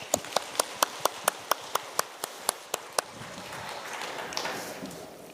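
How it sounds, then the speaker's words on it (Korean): A church congregation at a Sunday service claps, opening with about a dozen loud, evenly spaced unison claps that then dissolve into a softer, continuous scatter of applause as murmuring voices rise underneath. "하나님께 감사와 영광의 박수 올려드립시다."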